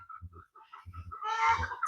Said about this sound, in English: I hear so many birds.